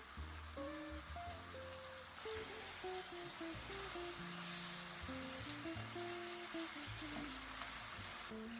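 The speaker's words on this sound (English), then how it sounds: "Let's go ahead and put some of these tortilla wedges in here and cook them until they are golden brown" Tortilla wedges fry in hot avocado oil in a pan, giving a steady soft sizzle and crackle with occasional pops, heard under quiet music throughout.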